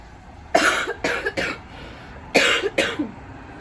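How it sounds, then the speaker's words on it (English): A person coughs in two rough fits, several harsh coughs each, close and loud with a short pause between. "this terrible cough, man, I just can't get rid of it"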